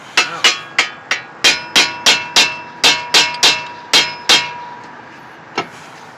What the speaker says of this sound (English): You get my hammer, you hit it out.